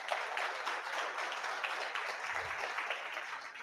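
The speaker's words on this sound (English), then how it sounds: "So round of applause for all of you for getting it done." An audience claps for graduates of a data science, data analytics and web development bootcamp at a demo day, a steady, moderately loud patter of many hands that continues without pause.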